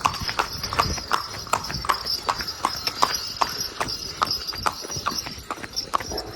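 A horse walks at a steady pace, its hooves clip-clopping in an even, repeating rhythm of sharp knocks, fairly close and clear, with faint background noise.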